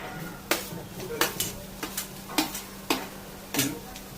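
Chopped onion goes into a pan for a roasted coconut-onion masala and is stirred: sharp spatula scrapes and knocks recur about every half second over a soft sizzle, close and fairly loud.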